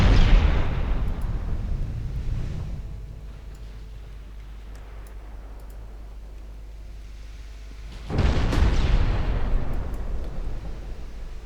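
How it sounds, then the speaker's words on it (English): Naval artillery fires at a battleship in the naval strategy game Ultimate Admiral Dreadnoughts: a heavy booming blast that rumbles and fades over several seconds, then a second loud salvo erupts and rolls on, with no voices. "Actually, just firing at the battleship."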